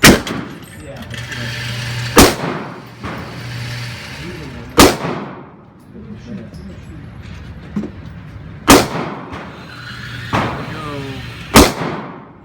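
A Glock 22 .40 caliber pistol fired outdoors, five loud, sharp single shots spaced a couple of seconds apart, each with a short ringing decay, with quieter sounds between the shots.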